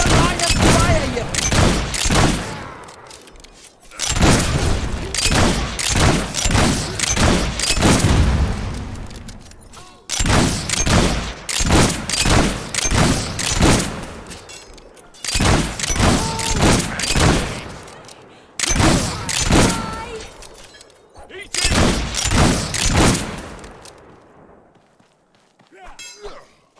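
Gunfire in the video game Fable 3, with repeated rapid volleys of loud shots and metallic clangs arriving in bursts, while voices shout and talk over the combat.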